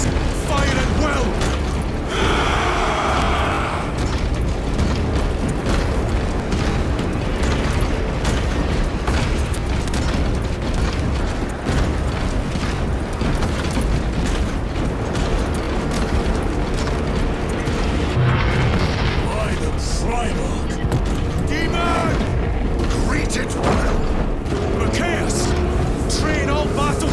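Massed gunfire and explosions from forces opening fire in Warhammer 40,000: Space Marine 2, a dense, continuous barrage of booms and weapon noise with voices shouting over the battle.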